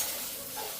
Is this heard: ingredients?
yes